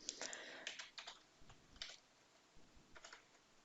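Rapid, light clicking of keys on a computer keyboard, typed in short irregular bursts while entering coordinates, close and fairly quiet.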